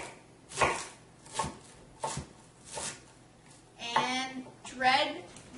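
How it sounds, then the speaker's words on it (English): A knife chops through a cabbage stem on a cutting board in four crisp, evenly spaced strokes, close and clear, followed by a short stretch of voice-like sound. "you can cut it one more time just to make sure that it's nicely chopped"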